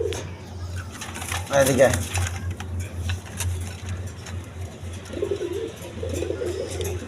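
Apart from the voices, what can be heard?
pigeons cooing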